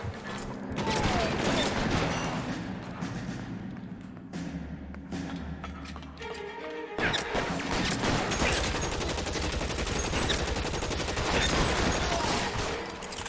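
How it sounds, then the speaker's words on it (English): A Tommy gun in the video game LA Noire fires in rapid, loud bursts mixed with heavy thuds and a clatter of mechanisms, with the gunfire getting denser in the second half. "Tommy gun."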